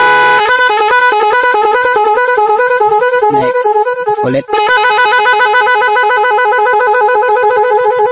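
A car's multi-tone magic horn sounds loudly and close, cycling through warbling, alternating-pitch siren patterns, briefly cut off while a voice speaks a couple of words, then resuming with another rapid two-tone warble.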